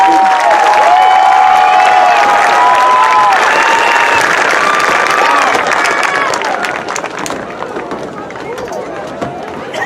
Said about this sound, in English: Another round of applause for this row of graduates.